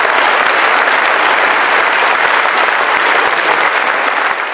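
Loud, sustained applause from a large crowd at a political rally in Bihar, dense and even clapping filling the whole stretch without a break.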